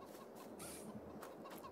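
Chickens cluck around a chicken coop on a farm in Farming Simulator 22, soft scattered clucks and a brief higher call over steady game ambience, no talking.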